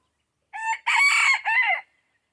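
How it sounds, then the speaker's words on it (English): A lone rooster crows once nearby, a loud three-part cock-a-doodle-doo with a short gap after the first note, set against otherwise silent surroundings. "And the lone rooster."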